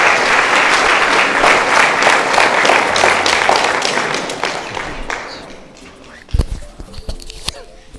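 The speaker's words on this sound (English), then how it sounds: "Let's give it a round of applause again to the campus manager." Audience applause at an inter-college entrepreneurship event, steady and dense clapping for about five seconds before thinning out into a few scattered claps and knocks.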